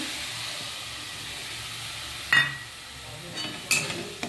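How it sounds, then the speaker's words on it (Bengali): Soaked spice paste added to hot oil in a pan, a soft continuous sizzle and hiss up close, broken by a few scraping stirs and clinks of a utensil toward the end. "এর মধ্যে আমি ভিজিয়ে রাখা মশলাটা দিয়ে দেবো।"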